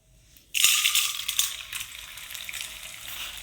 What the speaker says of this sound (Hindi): अब हम यहाँ पर थोड़ा सा घी और डालेंगे और इसे गर्म होने देंगे। और ये है गोंद, सारे को हम फ्राई नहीं करेंगे, थोड़ा सा को फ्राई करेंगे